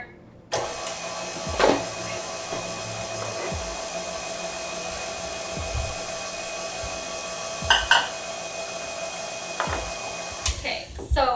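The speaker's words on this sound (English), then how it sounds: "Okay, now start your mixer." An electric hand mixer whirs steadily through vegan vanilla cupcake batter in a bowl, a continuous motor drone with a few brief knocks and scrapes against the bowl, close and moderately loud, without talk.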